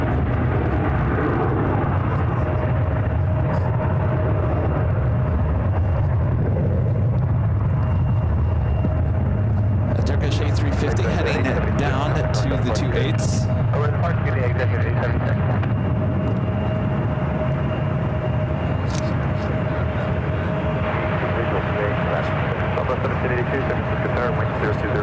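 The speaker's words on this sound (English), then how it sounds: "This is a Cessna Citation Longitude taking off to Santa Barbara" A Cessna Citation Longitude business jet takes off from a runway at SFO, a loud continuous rumbling roar that persists throughout with occasional higher crackle.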